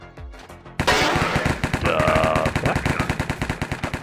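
Rapid automatic gunfire in the Minecraft Hypixel Cops and Crims game rattles off in a loud, evenly spaced burst of sharp cracks. A short spoken word comes just before it starts.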